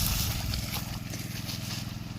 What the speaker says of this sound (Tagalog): Patayin muna yung makina.